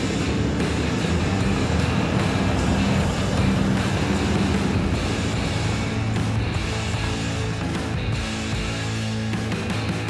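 A car towing an offroad caravan along a road on the Savannah Way hums with a steady engine and tyre rumble. Rattles and bumps from the rig come through the drone at close range, and nobody talks.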